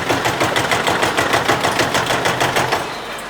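A brick making machine runs in a factory, giving a loud, continuous rhythmic mechanical pounding with a steady fast beat throughout.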